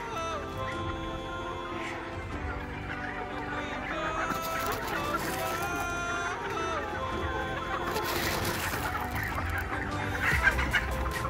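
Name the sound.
chickens clucking while running in for feed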